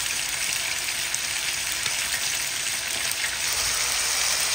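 Ingredients for pansit noodles sizzle in a hot pan, a loud, dense, continuous hiss of frying with faint stirring crackles.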